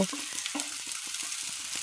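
Onions frying in a pan for crispy potato patties, a steady close sizzle with a few soft stirring scrapes over about two seconds, no voices.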